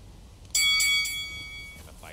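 A boxing bell rings once to start a fight in the DayZ video game, a bright loud metallic strike that rings on and slowly fades, with people talking under it.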